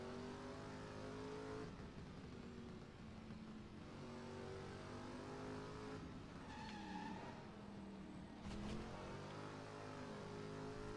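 A car driving in the video game Driver San Francisco, its engine droning steadily with rising and falling revs as it shifts through gears, a couple of brief squeal-like bursts, loud and continuous throughout.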